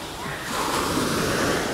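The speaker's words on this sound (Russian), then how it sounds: "Ну, такие вот волночки, то есть комфортные, нормальные, можно купаться." Small, gentle sea waves wash onto Cleopatra Beach in Alanya, a soft broadband surf rush that swells slightly partway through and continues steadily.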